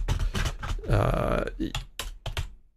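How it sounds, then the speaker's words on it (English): Several quick taps on mechanical keyboard keys, close and clicky, arriving in short irregular bursts with a brief low hum partway through. "how much you want to reduce in keyboard sound"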